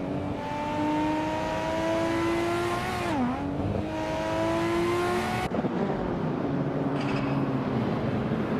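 Race car engines in an AI car racing video game hold a steady, loud high-pitched drone, dipping briefly as a car shifts, then a cut to another car's engine; no talking.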